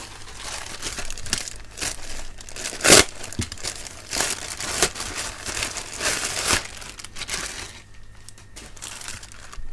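A plastic bag nested inside another bag is pulled open, producing a continuous close-up crinkling and rustling with a few sharper crackles and tears, fading toward the end.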